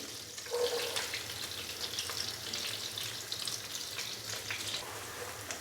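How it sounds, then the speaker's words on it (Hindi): Chopped onion frying in melted butter for chana dal makhni, a steady close sizzle with soft bubbling crackle that holds evenly throughout, no voices. "तो प्याज को हम लाइट ब्राउन होने तक फ्राई कर लेंगे 3 से 4 मिनट के लिए"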